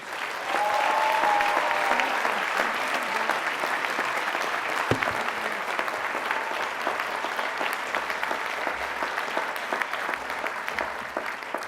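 A commencement audience applauds to welcome the speaker. The clapping is dense and sustained, loud and steady for the whole stretch, with a brief whistle near the start.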